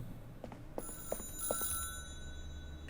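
A telephone rings with a few short, bright bell tones repeated quickly, moderately loud over a low steady background hum.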